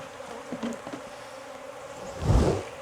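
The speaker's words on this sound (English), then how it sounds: "Lots of bees in this nuke. Of course, I'm disrupting them." Many honey bees in a nucleus hive hum in a steady, dense drone close by, disturbed, with a louder swell of buzzing toward the end.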